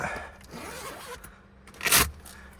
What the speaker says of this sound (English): zip this zipper up